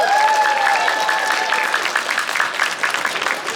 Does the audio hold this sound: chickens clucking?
no